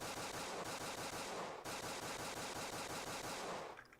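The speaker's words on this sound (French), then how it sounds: "la particularité de cette arme, alors la Glock, c'est l'arme la plus inutile que vous allez avoir sur Blockade" Rapid, continuous gunfire from a Glock pistol in the blocky shooter Blockade 3D, a loud, dense stream of shots with a brief break midway, cutting off near the end.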